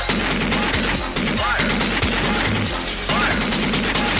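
Rapid bursts of rifle fire crack out one after another at close range on a firing line, the dense volley running nearly continuously through the whole stretch, with muffled voices faintly underneath.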